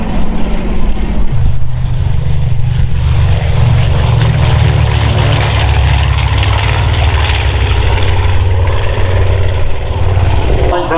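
A Royal Navy historic flight propeller aircraft flies past at the Farnborough airshow, its loud, continuous engine drone rising and holding steady, with a commentator talking over it.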